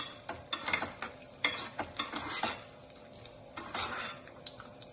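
Cashews frying in oil over a low flame for lemon rice, a soft continuous sizzle broken by close spoon stirring and clinks against the pan, no talking.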